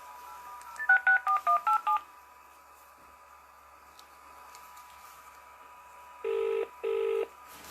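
Telephone keypad tones dialing a quiz contestant: a quick run of about seven short beeps, a pause of open line hiss, then two longer ringback tones, clear and close.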